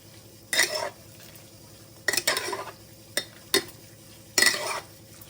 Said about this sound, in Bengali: কিমার সাথে ভালো করে সবকিছু আমি মিশিয়ে নেব।